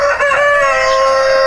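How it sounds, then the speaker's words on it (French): A single loud, close crow from a Faverolles rooster rings out, a sustained harmonic call filling the whole short moment with no talking. "Donc c'est des poules favrolles"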